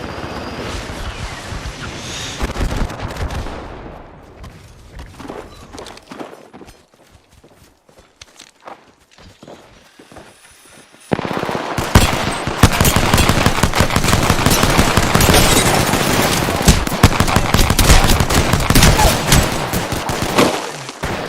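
Gunfire in a shooter video game: scattered, quieter shots at first, then from about halfway a loud, dense run of rapid automatic fire that keeps going steadily to the end, with no talking.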